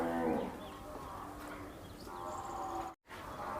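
Cows moo at a large cow shelter housing disabled cattle, one loud close low moo at the start followed by longer drawn-out calls, with background noise and a brief dropout near the end.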